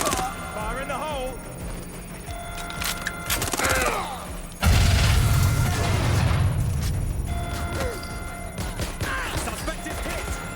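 A frag grenade goes off with a sudden loud boom and a long rumbling tail in Watch Dogs Legion. Gunfire, clattering mechanisms and shouted voices come before the blast.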